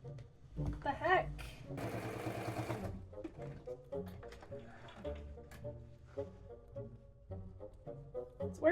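A sewing machine stitches a Trailblazer convertible backpack in short uneven bursts, including one sustained run of stitching, with a voice talking at intervals between the machine sounds.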